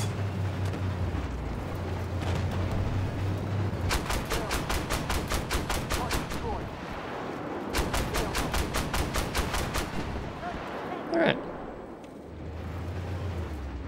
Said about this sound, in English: So there's the obligatory artillery that's probably going to shoot me in the face in a second here.